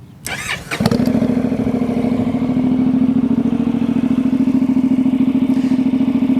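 A Honda CTX700 fuel-injected motorcycle engine cranks briefly, then catches and roars to life, settling into a loud, steady, throbbing idle close by.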